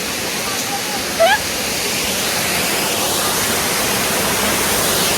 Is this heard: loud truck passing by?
no